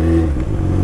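A loud motor engine drones and revs steadily up close, a continuous low mechanical roar with no voices.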